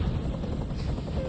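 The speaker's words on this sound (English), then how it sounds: "I can't stand that noise anymore. Tell that helicopter to get out of here." A helicopter in Detroit: Become Human drones with a loud, steady rotor thrum throughout, its low pulsing beat filling the short stretch while a voice talks over it.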